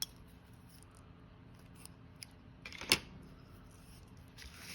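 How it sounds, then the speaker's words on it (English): Scissors snipping the end of a ribbon for a Christmas ornament card, a single crisp close cut with a few faint handling clicks around it and no one speaking. "I'm going to cut the end"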